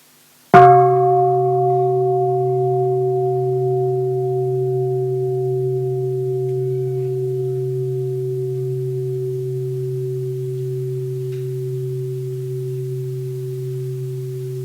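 A meditation bell is struck once and rings out with a clear, steady tone that sustains and slowly fades over many seconds, alone in a quiet space.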